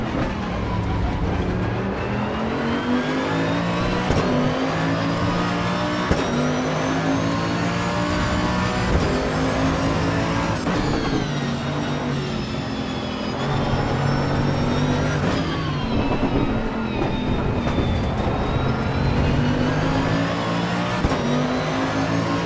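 Race car engine from the video game Assetto Corsa Evo, with the BMW M2 among the cars, running steadily at high revs throughout with harmonic whine, shifting pitch as it accelerates and changes gears, loud and continuous.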